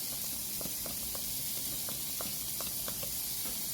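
Garlic sizzles in butter melting with oil in a pan, a soft constant frying hiss with scattered small pops and crackles, heard alone at low volume.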